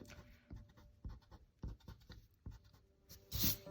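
Pencil scratches and rubs on paper while drawing a cartoon groom's face, short rhythmic strokes close up, ending with a brisker burst of erasing.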